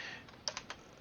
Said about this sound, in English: I can type in there